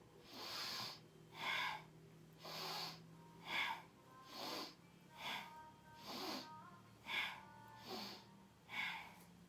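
Rhythmic breathing during a Kundalini yoga kriya, about nine forceful inhale and exhale cycles in an even, steady pattern, close and fairly quiet with no talking.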